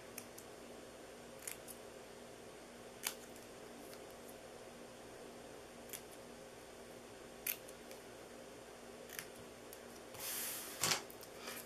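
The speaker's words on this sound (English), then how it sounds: "I'm gonna use my little snips for bannering the end here." Small snips cutting the end of a paper strip, several faint sharp clicks spaced a second or so apart over quiet room tone, with a brief rustle near the end.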